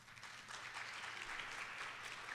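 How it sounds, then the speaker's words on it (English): An audience of dementia caregivers claps together at a talk, a steady wash of applause heard faintly from a distance for a couple of seconds. "So give yourselves a great big round of applause first,"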